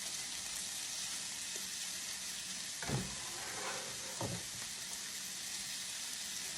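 Sausage and finely chopped onion fry in a pan with a steady, hissing sizzle, joined by a couple of soft stirring scrapes midway, close and moderately quiet, with no talk.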